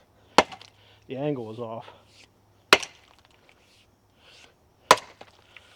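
An axe bites into dry, partly rotting beech wood, three sharp, loud chops spaced a couple of seconds apart, with someone briefly speaking between the first two strikes.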